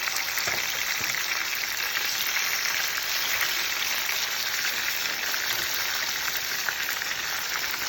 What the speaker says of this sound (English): Now I'm gonna add the tomato. You just have to kind of move back. It's going to sizzle.